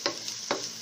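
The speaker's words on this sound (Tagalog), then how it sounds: "Igisa lang natin yung ano. Bawang tsaka sibuyas." Garlic and onion sautéing in hot oil for ginisang kangkong, a steady frying sizzle broken by two sharp scraping stirs in quick succession, close and clear with no talk.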